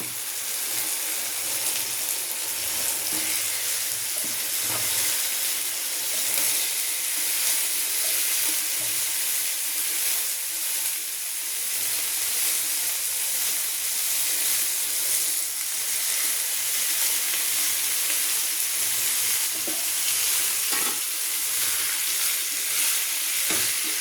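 Pepper chicken fries in a pan with a steady, loud, close sizzle, a broad hiss that holds for the whole stretch with faint stirring scrapes and small pops now and then, and no voices.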